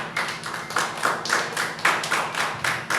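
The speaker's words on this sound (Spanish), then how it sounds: "Aleluya, en ese aplauso al Señor." A church congregation claps in praise to the Lord, with rhythmic unison clapping in steady pulses, about two beats per second, loud and close with no voices.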